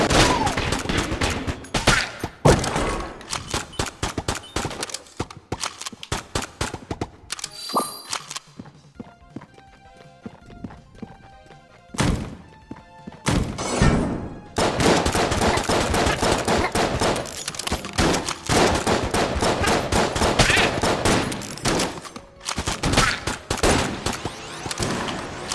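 Rapid gunfire from a weapon in an arcade shooting game, dense bursts of loud shots with metallic clangs and dings, a brief lull of electronic tones midway before the firing resumes in sustained volleys.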